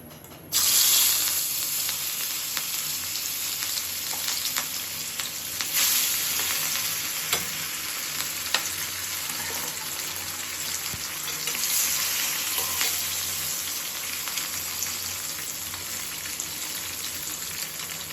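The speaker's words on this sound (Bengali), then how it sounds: "তেলটাও গরম হয়ে গেছে, এখন মাছগুলো ভেজে নেব।" Rohu fish pieces sizzle in hot oil in a kadai, a steady dense frying hiss that runs unbroken for the whole stretch, close and fairly loud.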